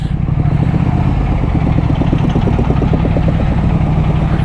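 A Triumph Thruxton motorcycle engine runs steadily close by, a loud, continuous low throbbing rumble with an even pulsing beat and no one talking.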